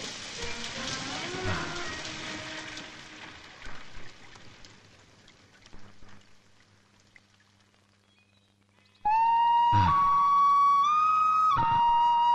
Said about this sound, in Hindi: क्या ये बारिश रुकी ही नहीं?